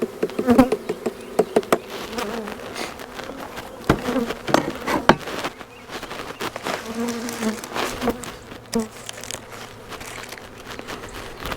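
Honeybees buzz steadily around a hive during a swarm transfer and feeding with a pollen patty outdoors, a dense droning hum with scattered close passes and faint knocks or handling sounds throughout.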